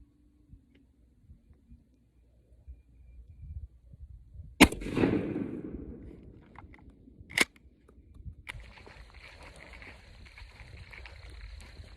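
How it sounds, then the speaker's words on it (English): A Winchester 1300 12 gauge shotgun fired outdoors at a target while sighting in a turkey gun: one loud blast with a decaying tail, then a second sharp crack a few seconds later, in a quiet setting. "We're fixing to shoot the Winchester 1300 12 gauge, and we're gonna see what it'll do."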